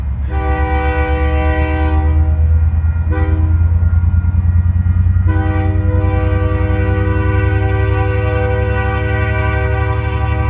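Outbound freight train pulled from a yard by a switcher, its horn blaring loud and near in three blasts, a short one, a brief one, then a long sustained blast, over a steady rumbling engine.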